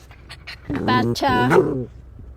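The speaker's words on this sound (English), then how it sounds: "we've got wrestling puppies here at the moment" Puppies wrestle and pant close by, with quick rhythmic huffing breaths and small whimpering yelps rising in the middle, while a person talks over them.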